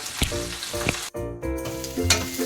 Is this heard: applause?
no